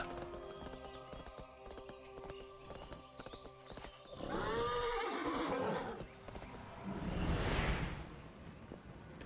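A horse mount in the video game World of Warcraft neighs with a rising whinny over steady clip-clopping hooves and airy background ambience.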